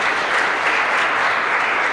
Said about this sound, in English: One more round of applause for this presentation.